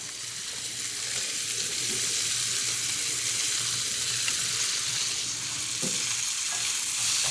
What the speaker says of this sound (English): So let's put the fennel here.